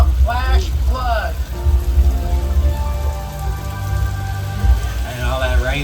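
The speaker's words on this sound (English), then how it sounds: "all that rain that y'all see out here in Old Mexico is just from sprinklers that we got high up in the sky" Sprinklers mounted high overhead drench the Old Mexico flash flood set on a Universal studio backlot, a loud, dense rain patter pouring continuously while a guide talks over it.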